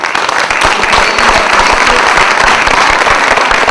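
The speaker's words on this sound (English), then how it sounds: "And let's give a thundering applause to all of them." Loud, dense applause from an audience honouring award winners at an MDI diversity and inclusion event, a sustained roar of many clapping hands with sharp individual claps popping through.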